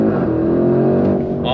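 A 2024 Porsche Cayenne Turbo E-Hybrid, an SUV of over 700 horsepower, accelerates hard on throttle with paddle shifts, its engine note climbing loud and close in a short, rising burst.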